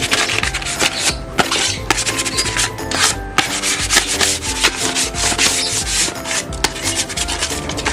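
Hand sanding with sandpaper along the corners of a wooden DIY camping cooler stand, a continuous close, loud scratchy rubbing with rapid back-and-forth strokes and brief pauses, no voices.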